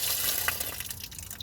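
Water and muddy grime gush from an unplugged drain hole in the wheel arch of a high-mileage Porsche Cayenne 955, a steady close splashing trickle with scattered drips, no voices.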